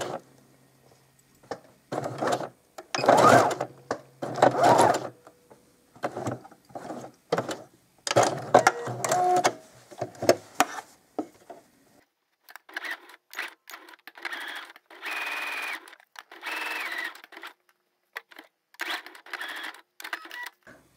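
A sewing machine runs a long basting stitch across a child's egg gathering apron, with short bursts of mechanical whirring and clicking broken by quiet pauses, heard close with no talking.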